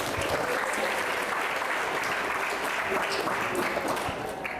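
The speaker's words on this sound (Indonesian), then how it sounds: "Teman-teman bisa tepuk tangan sekali lagi." An audience at a Ramadan religious talk on what breaks the fast claps together, a dense, steady burst of applause filling the room from start to finish.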